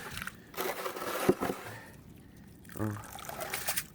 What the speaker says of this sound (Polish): nabieram wodę do kuwety